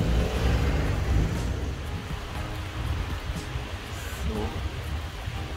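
Steady rain falling in the city of Pforzheim near the railway station, a dense continuous hiss mixed with passing traffic swish; a voice speaks briefly at the start.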